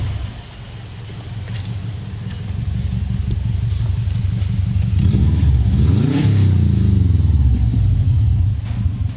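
A tuned car with aftermarket engine modifications pulls away on the road, the engine droning low and loud from inside, rising in pitch as it accelerates through the gears.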